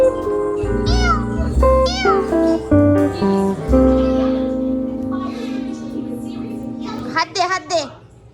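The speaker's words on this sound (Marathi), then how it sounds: "मांजरं कसं खेळत आहेत ते तुम्हाला दाखवते बघा" Pet cats at play meow repeatedly, loud and close, with rising and falling cries tumbling over one another, while a person's voice is heard alongside them.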